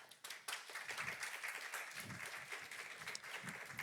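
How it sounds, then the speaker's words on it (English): Audience applause at a Pride panel discussion, dense clapping from a seated crowd that starts abruptly and continues steadily with a few low voices underneath. "A round of applause."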